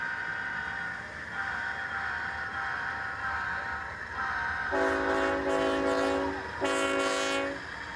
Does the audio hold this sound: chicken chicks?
no